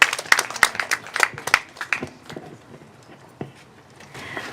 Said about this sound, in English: Another round of applause for our volunteers who's helped set everything up for us today.